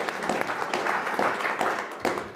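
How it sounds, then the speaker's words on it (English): An audience at an ocean and reef talk claps for the guests, a moderately loud round of applause with individual claps standing out, steady and fairly close. "Let's give them a round of applause."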